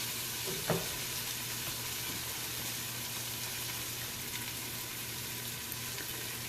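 Tomatoes and scraped-in leftovers for borscht sizzle in a hot pan, a dense continuous hiss with a brief clink of utensil near the start, quiet and steady throughout.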